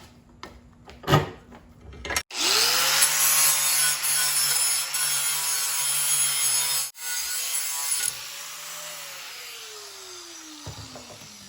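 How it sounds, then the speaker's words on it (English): A jigsaw rips through a piece of wood during a small jet boat build, a sustained loud buzzing cut lasting several seconds, briefly stopping and restarting, then winding down at the end. "so jigsaw is what we're using"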